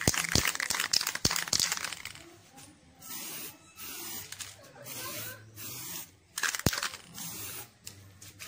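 An aerosol can sprays a coat of paint onto a motorcycle center stand being restored, with sharp hissing bursts at the start, later broken by quieter pauses and clicks between shorter spray passes.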